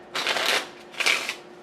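A deck of game cards being shuffled for a three-player tabletop card game, two quick riffling bursts, close and crisp, with no voices.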